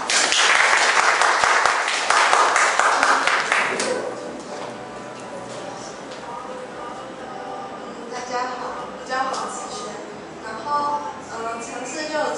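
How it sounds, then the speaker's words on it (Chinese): An audience at a Kaohsiung self-introduction event claps to welcome the next speaker, a burst of applause for about four seconds that fades as a voice begins talking. "掌声欢迎他。"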